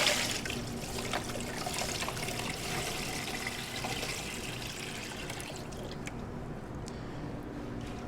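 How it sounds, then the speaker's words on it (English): Pork loin lowered into a container of cold curing brine, giving a steady close trickling and sloshing of liquid that runs throughout, easing slightly toward the end. "All we have to do now is submerge the pork loin in the brine."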